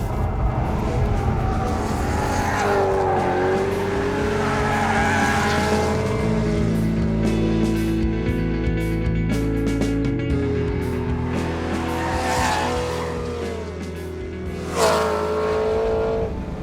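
A naturally aspirated 414-horsepower V8 engine in a BMW M3 revs hard and loud past 8,000 RPM, pitch climbing and falling through gears, with a sharp high-rev burst near the end.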